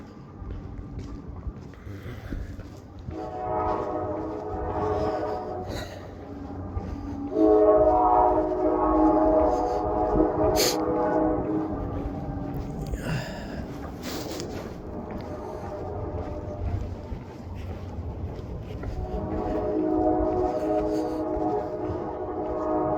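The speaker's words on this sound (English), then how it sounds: "You can hear the train going in the distance." A train passes in the distance, its horn sounding in long sustained tones while rolling rail noise continues underneath; heard from a town setting near an old-fashioned diner counter, fairly steady and moderately loud throughout.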